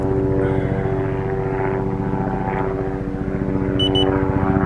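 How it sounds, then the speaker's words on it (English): A helicopter passes overhead while someone tests a compost heap outdoors, a loud steady rotor and engine drone with a rhythmic throbbing pulse that holds close and continuous throughout. "Just as you start filming, a helicopter goes over."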